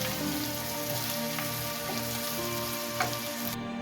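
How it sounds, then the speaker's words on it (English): A spicy plant-based vegan sausage fries in a pan with a continuous, even crackling sizzle, close and moderately loud, with no voices. "Separately, I'm cooking a plant-based sausage."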